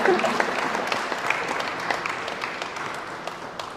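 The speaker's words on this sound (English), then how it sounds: "you can give him another round of applause as he takes his way around the corner." A crowd at a youth cricket tournament media launch applauds a speaker walking to the stage, steady dense clapping that slowly fades.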